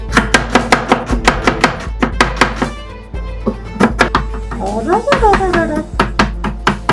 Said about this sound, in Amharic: እየከተፍኩ ነው።